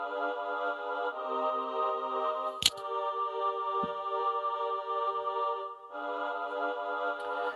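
Electronic keys with a choir sidechained against them, so the choir ducks and pumps while the keys cut through in sustained chordal stabs, with a brief click near the middle and no talk.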